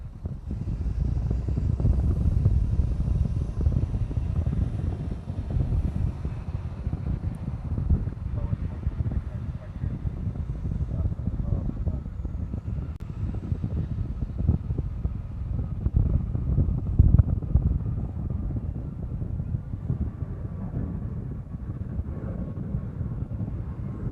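A heavy airliner takes off from Honolulu airport, its broad jet roar sustained and fairly distant, with wind buffeting the microphone throughout.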